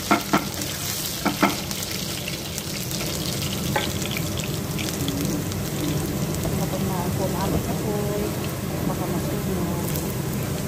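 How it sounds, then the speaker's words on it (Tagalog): Garlic sizzles steadily in a hot pan as a garnish for arroz caldo, with a few sharp clinks of utensil on pan at the start and faint stirring throughout. "Ito fry muna natin ang ating garlic."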